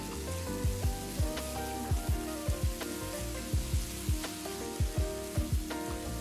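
Golden-browned onions and ginger garlic paste fry in a pan with a soft, steady sizzle, punctuated by regular clinks and scrapes of a spoon stirring them.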